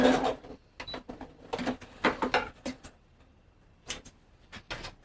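A sewing machine stitches leather backpack pieces together in quick bursts of rapid ticking and clacking, separated by brief pauses, fairly close but not loud.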